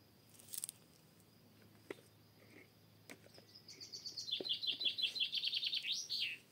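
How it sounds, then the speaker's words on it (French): Small birds chirp outdoors in a quick, rising run of bright repeated tweets that grows louder toward the end, after a few scattered faint calls and soft taps over a quiet background. "Vous entendez les petits oiseaux?"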